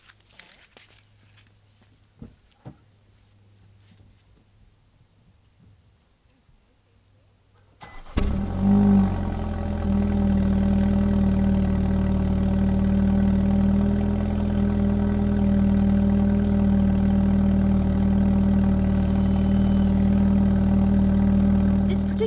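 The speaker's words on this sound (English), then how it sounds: "let's start it up and see how they sound." A 2016 BMW X1 with a valved exhaust is quiet at first, with a few faint clicks and footsteps, then cranks and fires up with a loud flare. It settles into a steady, droning idle that holds to the end.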